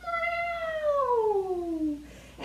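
During a children's family yoga class, a person's voice imitates a cat with one long, clear meow that slides steadily downward in pitch over about two seconds.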